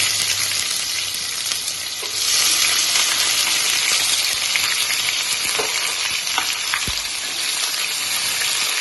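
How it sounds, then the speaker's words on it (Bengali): Chopped onions frying with chicken pieces in hot oil for a country chicken gravy, a steady loud sizzle with occasional stirring clicks and scrapes, no voices. "চিকেনটা তেলের তেলের সঙ্গে গলে গেছে এবার আমি দিয়ে দেবো কুচিয়ে রাখা পেঁয়াজগুলো"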